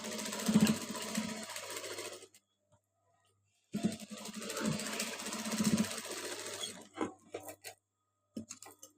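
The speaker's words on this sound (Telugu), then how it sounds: "ఇలా స్టిచ్ చేసి ఇలాగా ఆ భాగాన్ని ఉంచుకొని ఇలా స్టిచ్ చేసుకోవాలి" A sewing machine stitches fabric for a dori angle piece in two loud running bursts with a short pause between them, followed by quieter handling clicks.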